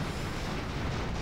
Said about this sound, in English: that exploded quite badly, didn't it?